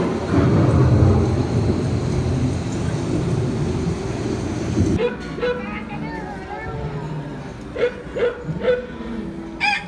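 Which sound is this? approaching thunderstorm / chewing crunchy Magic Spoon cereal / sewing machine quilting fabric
approaching thunderstorm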